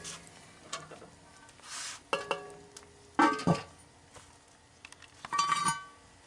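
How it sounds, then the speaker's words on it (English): A pot lid is set back onto a cooking pot of chorizo chile, giving a few clinks and clatters of metal amid soft kitchen handling noise, with no talking. "At this point, we put the lid back on."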